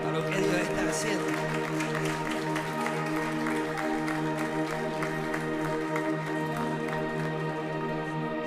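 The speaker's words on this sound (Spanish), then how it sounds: "¿Cuántos pueden darme un fuerte aplauso a lo que Dios está haciendo?" A church congregation gives sustained applause during a worship service, the clapping blended with loud, held musical tones from the band and some voices throughout.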